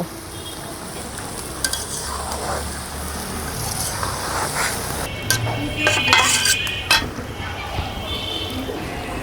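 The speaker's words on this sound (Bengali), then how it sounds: "মাছ দিয়ে এখন একটু কষাবো, তারপরে ঝোল দিয়ে দিব।" Small fresh tengra fish cooked with green tomato sizzle steadily in a pan while a utensil stirs and scrapes, with clinks of metal on the pan and a voice talking over the frying.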